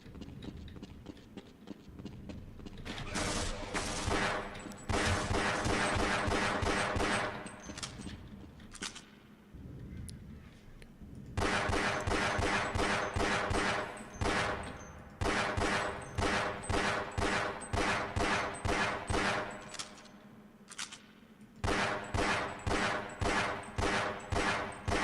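Rapid pistol gunfire in Half-Life: Blue Shift, loud bursts of sharp repeated shots in quick rhythm, broken by short pauses between volleys.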